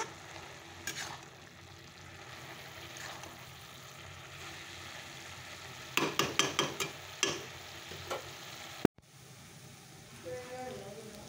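Cabbage cooks in a pan with a steady low sizzle, then a burst of quick scraping stir strokes midway, a sharp knock and a short break before the hiss resumes.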